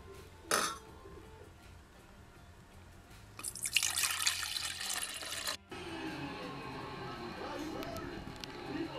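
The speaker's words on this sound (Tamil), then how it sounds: "இதில் உள்ள தண்ணியெல்லாம் ட்ரெயின் பண்ணி நல்லா வடிச்செடுத்துடணும்" Water drains from a batch of soaked mung beans in a kitchen, a steady splashing pour under a louder burst midway, with a sharp drip or clatter near the start.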